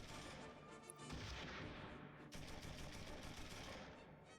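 Dense gunfire and artillery from the World War II tactical game Close Combat 3, a continuous loud barrage of overlapping shots and booms with one sharp crack partway through, no talking.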